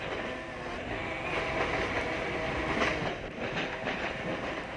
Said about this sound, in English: can hear a tram getting real close to us